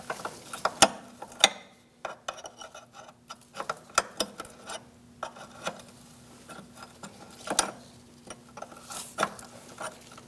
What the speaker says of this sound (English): Sometimes these fittings get stuck on the little plastic film on the line, so you might need a wrench to get it going.